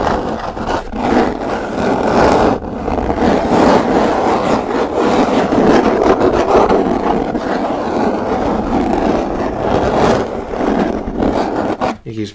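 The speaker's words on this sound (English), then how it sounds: "It's a pretty aggressive scratch." Rough, aggressive scratching on a wooden box fills the close ASMR recording with dense, continuous rasping strokes that hold a loud, steady level before tapering off at the very end.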